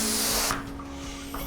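A hand pump pushes air into a 660 modelling balloon with a steady close hiss that cuts off about a third of the way through, leaving a softer airy rush.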